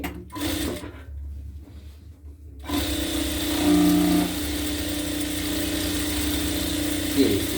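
A sewing machine stitches a semi-Patiala salwar, with a short burst, a brief pause, then a long, steady run of motor whir and needle clatter.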